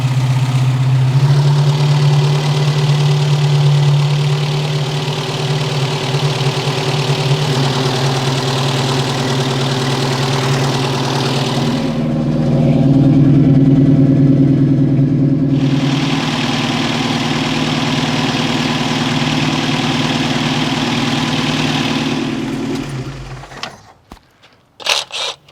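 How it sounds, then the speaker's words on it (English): An Opel CIH engine idles steadily while warming up, a close, even mechanical hum with a slight change in tone partway through before it cuts out and falls quiet at the end. "The good news is it's idling nicely, so I'm just going to let it keep warming up and hopefully do that hot valve adjustment."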